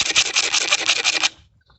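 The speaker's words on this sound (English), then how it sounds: "I'm going to sit here with a blade, and I'm just going to hold the blade very straight and just back and forth" A hand blade scrapes varnish off a solid lump of wood in steady back-and-forth strokes, close and rasping, for over a second before stopping abruptly.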